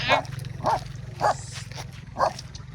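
A dog barks in a steady run of five or six sharp, evenly spaced barks close by while chasing people walking away from a house, over a constant low hum.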